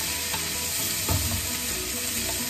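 Chicken sizzling in a pan with garlic, ginger and green chilli paste for a homestyle chicken palak, a steady close frying crackle with a brief louder stir near the middle.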